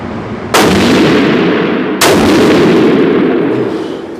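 Rifle firing 300 PRC Hornady rounds, two sharp loud shots about one and a half seconds apart, each followed by a long booming outdoor echo.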